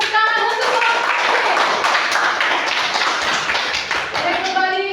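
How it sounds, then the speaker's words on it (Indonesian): Students in a classroom clap for a presenting group, with close, fairly loud hand claps forming a quick, uneven patter throughout and a brief voice at the start and again at the end. "Mari kita beri juga tepuk tangan untuk kelompok C."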